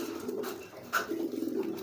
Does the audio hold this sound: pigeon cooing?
yes